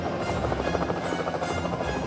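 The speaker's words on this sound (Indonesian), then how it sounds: "Wow, aku suka menjadi helikopter." Steady, loud rotor chop from a cartoon helicopter in Thomas & Friends, a continuous dense whirring drone with no pause and no talk.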